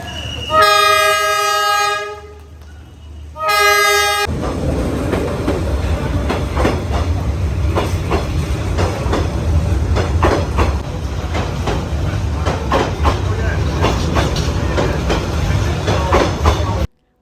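A train rumbles past close by along a street, its horn blaring twice at the start, followed by steady rolling clatter of wheels that continues to the end.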